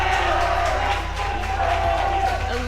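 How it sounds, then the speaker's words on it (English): Arena crowd cheering for teams at a Mobile Legends esports playoff match, MPL Singapore Season 4 lower bracket finals, a continuous loud roar with scattered shouts. "Let us hear you cheer for your team."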